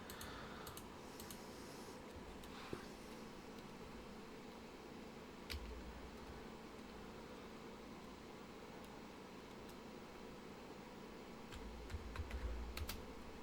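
Typing on a secondary computer keyboard, heard as faint, close, irregular key clicks with occasional louder taps over a steady low background hum.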